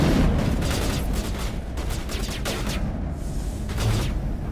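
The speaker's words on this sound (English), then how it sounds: "Please pull the trigger. Weapons free. That means you're allowed to shoot" Sustained squad gunfire in a 2007 space RPG fills the scene, dense overlapping shots and bursts rattling loudly and continuously with no talk.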